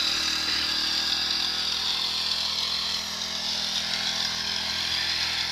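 A motorized sprayer spraying urea on a wheat field runs continuously with a loud, steady high-pitched engine whine and hum, close and unbroken throughout.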